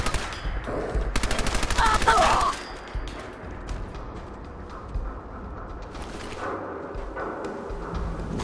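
Rapid burst of auto pistol fire in Fallout 4, a fast, loud rattling volley lasting about two seconds, followed by quieter game ambience and scattered impacts.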